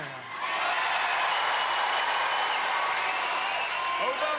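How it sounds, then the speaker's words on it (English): A studio crowd at a 1994 UK Gladiators heat cheers for contender Dean, a sustained roar of cheering and clapping that swells after a brief quiet start and stays loud throughout. "Dean's supporters getting the crowd behind him"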